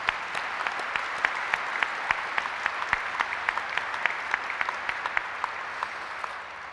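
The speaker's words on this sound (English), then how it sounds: "give a round of applause for everybody that made this happen" Audience applause fills a NORAD and USNORTHCOM change of command ceremony, a steady dense wash of clapping with sharper individual claps standing out, sustained and even throughout.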